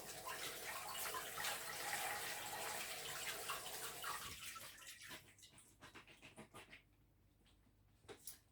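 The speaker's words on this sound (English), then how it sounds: "I'm just going to pop them in the colander and rinse them under the tap" Mange tout peas are rinsed in a colander under a running kitchen tap: a dense, close gush of water for about five seconds, then the flow stops and gives way to scattered drips and light handling sounds.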